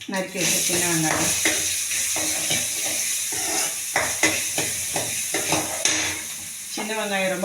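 Steady loud sizzling of small onions frying in a pan, with a spoon stirring and scraping throughout and a voice speaking over it.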